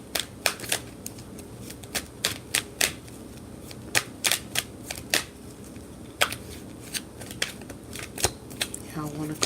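Tarot deck being shuffled by hand, with a series of crisp card riffles and slaps in an irregular rhythm, close and fairly quiet, and a brief rustle at the very end.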